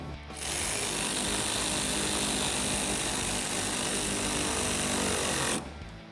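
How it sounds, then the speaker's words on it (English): An 8mm socket on a power driver tightens a top fender flare bolt on a 2016-2021 Toyota Tacoma, giving a steady, loud mechanical whir that runs for about five seconds with no talk. "So for this top one, I'm going to tighten it up with an 8mm socket."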